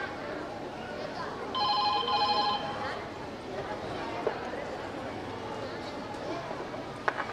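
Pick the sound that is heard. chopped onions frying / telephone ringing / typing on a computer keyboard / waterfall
telephone ringing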